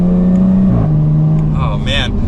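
A 2021 Jaguar F-Type R-Dynamic in dynamic mode pulls hard from second gear, its engine note rising steadily and loudly from inside the cabin while a voice talks over it.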